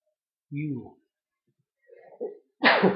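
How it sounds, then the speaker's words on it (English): A single sharp sneeze bursts out after a short pause, preceded by a few quiet vocal sounds, close and clear against silence. "Because it's allergy season here in Michigan, so I've been sneezing."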